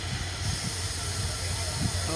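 The Nilsagar Express, hauled by locomotive 6639, approaches at Saidpur with a steady, heavy rumble and a constant hissing wash of noise, a low drone running underneath throughout.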